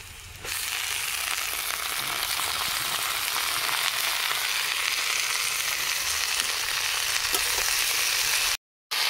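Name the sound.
chopped leafy greens frying with onion and garlic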